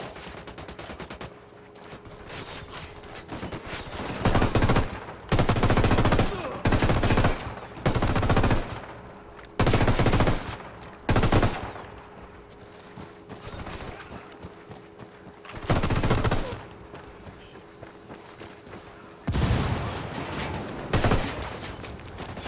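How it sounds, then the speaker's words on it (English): Bursts of automatic gunfire from the video game Ghost Recon Wildlands, loud and close, firing in repeated clusters of several seconds separated by short pauses, with a steady low hum between volleys. "Firing, they know we're here."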